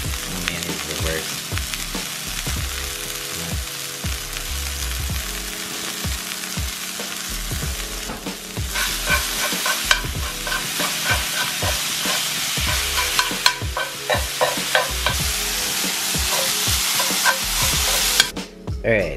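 Turkey frying in a pan with garlic and curry powder, a continuous close sizzle broken by repeated scraping and stirring strokes that grow busier partway through, with no talking.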